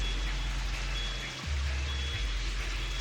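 A delivery truck backing up on a city street, with a steady repeating reversing beep over a loud low engine rumble and wet traffic noise, the engine briefly dipping then picking up again.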